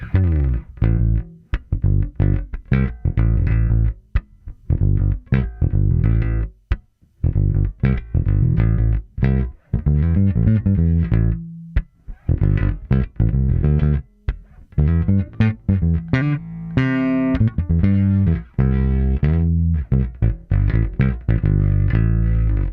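A Fender Mark Hoppus Jaguar bass plucked with the fingers at full volume plays a steady, busy line of punchy notes, loud and alone with no voices.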